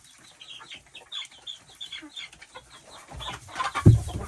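Chickens in a coop: quiet, scattered clucks and soft fowl murmurs, fairly close, ending in a louder burst of squawking and bumping.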